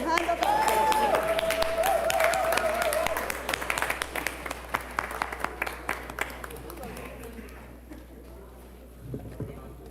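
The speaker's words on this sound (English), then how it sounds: "Please, a hand of applause" A church congregation at an Anglican graduation Sunday service breaks into full applause that thins into scattered claps and fades. A voice and a sustained tone sound over the start of the applause.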